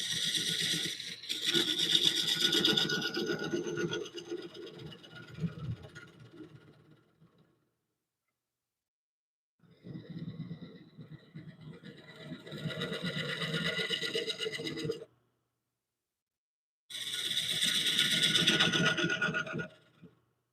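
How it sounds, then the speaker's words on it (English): A small gouge cuts into a walnut or cypress bowl blank spinning on a lathe, giving a close, rough scraping hiss in three separate passes with silent gaps between them. "I'm just kind of setting the parameters here with this little gouge"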